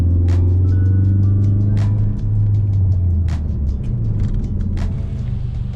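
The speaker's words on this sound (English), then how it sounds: "I think we're gonna have a good spot to do a quick little pull." A Ford Focus RS engine makes a loud, steady low rumble for a quick pull, with the drone holding fairly even and a few sharp clicks or knocks over it. No voice is heard.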